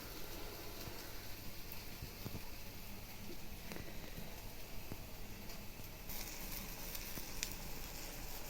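Steady sizzling and crackling of food frying in a hot pan, close by and continuous throughout.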